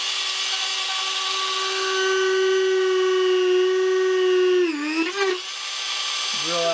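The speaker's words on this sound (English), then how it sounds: "I'm gonna take my Dremel, get really, really loud" A Dremel rotary tool whines steadily at high speed, loud and close, as it drills a hole in Polly Plastics for a samurai kabuto helmet, the pitch dipping and wavering briefly as it bites in.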